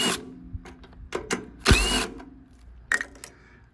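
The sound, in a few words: undoing bolts on a Tecumseh Craftsman engine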